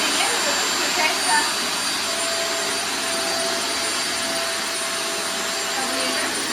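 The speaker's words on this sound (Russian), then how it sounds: "Включается пылесос вот тут." A Kitfort KT-555 upright vacuum cleaner runs with a steady, loud, high-pitched whine and airy roar, close by and unbroken, with no voices.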